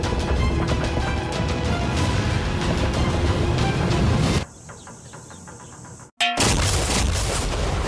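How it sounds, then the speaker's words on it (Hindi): A loud, sustained roaring blast fills the first half, then cuts to a quieter hiss before another burst of rumbling noise returns. "वो धमाका बहुत ही विशाल होगा।"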